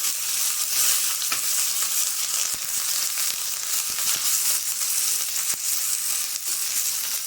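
Byadagi chili pieces, curry leaves and cumin frying in hot oil as a tempering for raw mango rasam; a steady, close crackling sizzle with scattered sharp pops runs throughout, with no talking.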